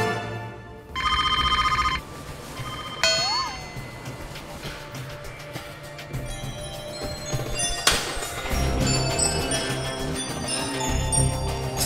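An old telephone bell rings in a loud electric burst, followed by chimes and busy studio noise on a Korean variety show, with voices talking over it.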